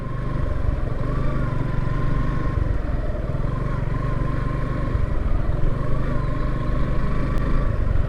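A couple of motorcycles passing on a hill road at Minatila in Jaintiapur, Sylhet, a steady engine drone with a faint higher whine, continuous and fairly loud under outdoor ambience, no talk.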